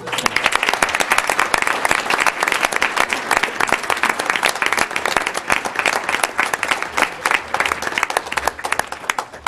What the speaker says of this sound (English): would you have all your students stand up so we can give them a round of applause